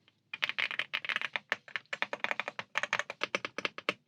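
Someone types quickly on an Aula F75 Max mechanical keyboard, producing a dense run of crisp, close key clacks in uneven bursts with brief pauses and no talking.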